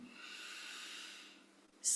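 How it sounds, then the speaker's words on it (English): One slow, deep inhale, a soft and close airy breath that swells gently and fades near the end before a brief sharper hiss cuts in, with no talking. "And again, slowly breathing in,"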